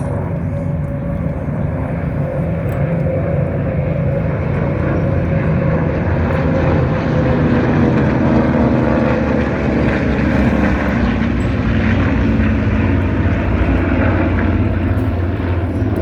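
World War II era aircraft fly a formation display at an airshow, producing a loud, continuous droning engine roar that holds steady across the whole span without talk.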